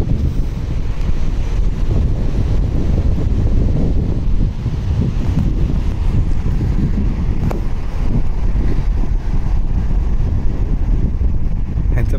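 Wind buffets the microphone on a Konkan seashore while low waves rumble and wash in steadily, a loud, continuous roar with faint voices mixed in.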